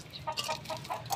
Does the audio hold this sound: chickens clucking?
yes